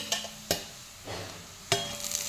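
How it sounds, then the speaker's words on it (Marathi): Green chillies dropped into a pan of onions and cumin frying for a red amaranth vegetable dish, a few sharp clacks of a spoon against the pan between bursts of soft sizzling, close and quiet. "यामध्ये मी मिरची घालते।"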